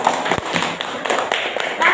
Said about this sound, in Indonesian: Tepuk tangan buat Fikri.